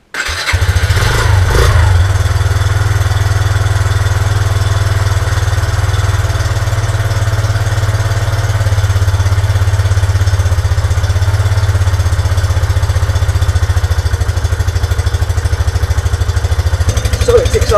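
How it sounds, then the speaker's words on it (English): A Yamaha YBR 125 motorcycle engine cranks and fires, then settles into a steady, loud single-cylinder tickover idle heard up close, running evenly for the rest of the stretch. "so it ticks over"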